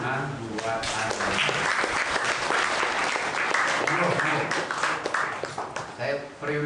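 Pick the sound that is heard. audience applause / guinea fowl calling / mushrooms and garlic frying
audience applause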